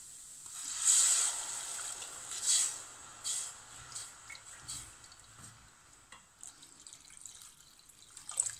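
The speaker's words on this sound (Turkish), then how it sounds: "Tarhanamızı hafiften kavurduktan sonra üzerine 5 su bardağı soğuk suyumuzu ilave edelim." Cold water pours into a pot over lightly toasted tarhana, a quiet close trickle and splashing that tapers into faint drips, with no speech.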